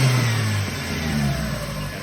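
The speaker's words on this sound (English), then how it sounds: "So I'll give it a bit of a rev here." A Toyota Corolla EE90 with a 2E engine and custom exhaust revs up loudly with a deep roar, then settles back down into a rumbling idle close by.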